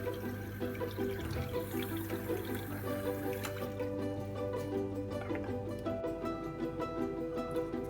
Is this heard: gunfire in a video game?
no